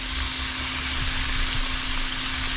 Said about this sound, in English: Just manage your frying.